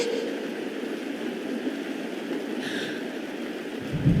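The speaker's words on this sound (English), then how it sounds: "It's raining." Steady rain falling in Honkai Star Rail, a broad continuous hiss held at an even level throughout, with a faint brief tone partway through and a soft low thump near the end.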